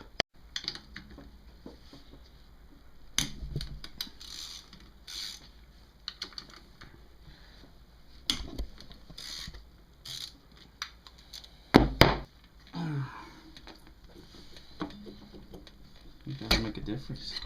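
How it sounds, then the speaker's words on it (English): Parts being removed from a 1985 Kawasaki VN750 engine during a rebuild, with the rear cylinder coming off: scattered metallic clicks, taps and clunks of tools and parts, a few sharper knocks near the end. "now to remove this rear cylinder, I have to undo the two nuts in there, unscrew a third guy there"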